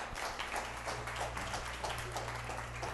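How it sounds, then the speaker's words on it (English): A studio audience on a small talk show applauds a guest's entrance, with steady, faint clapping running throughout over a constant low electrical hum. "Give him a round of applause."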